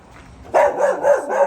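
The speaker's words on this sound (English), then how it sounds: "I'll stop torturing the dog." A dog at a house in Rockaway Beach gives a quick run of four close, loud barks after a quiet start, with the barks evenly spaced.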